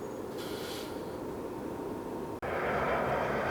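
Jet airliner coming in to land at LAX, a steady broad roaring engine rumble with a brighter whine rising near the end, heard from a distance outdoors.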